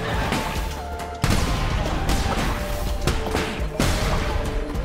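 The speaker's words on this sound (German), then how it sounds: "Explodiert." Explosions in the video game Cult of the Lamb, dense crashing bursts with sharp onsets recurring over a busy game soundtrack, loud and close.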